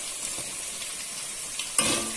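Garlic fries in a pan, a faint steady sizzle running quietly throughout, with a brief louder burst of crackle near the end as something is stirred or added.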